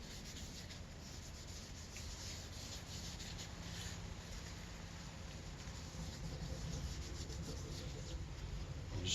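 A rag rubs finish onto a wooden coaster, giving a faint, continuous scrubbing hiss with a steady back-and-forth texture that grows slightly louder toward the end.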